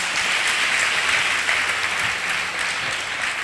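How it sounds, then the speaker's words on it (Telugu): A church congregation claps together in sustained, dense applause, steady and fairly loud throughout with no gaps. "అందరూ ఒకసారి చప్పట్లు కొట్టండి."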